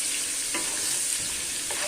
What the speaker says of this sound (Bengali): আলু ভাজা হচ্ছে